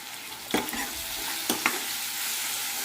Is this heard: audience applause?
no